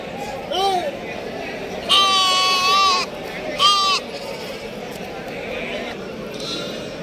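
Bandur crossbreed sheep bleat at a sheep market in Mandya, one short call and then two longer wavering bleats, fairly close, with outdoor background noise between them.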